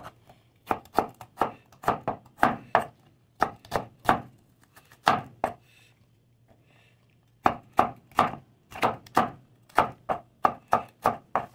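Knife slicing onions lengthwise on a cutting board for a tamarind-braised sapsap fish dish: brisk repeated chops in quick bursts, close and crisp, with a brief pause in the middle and no talk.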